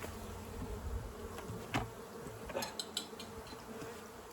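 Honeybees buzzing around an open beehive during a June inspection: a dense, steady drone of many bees, close by, with a few light clicks and taps of frames being handled.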